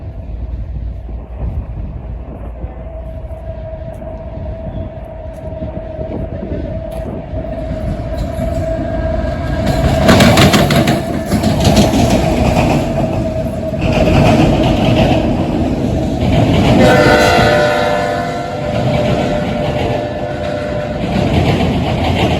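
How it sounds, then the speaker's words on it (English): A long autorack freight train rumbles past close by, steady heavy rolling noise with metallic clanks and squeals rising and falling over the passage. "A daily Philadelphia, Pennsylvania to Louisville, Kentucky autorack train."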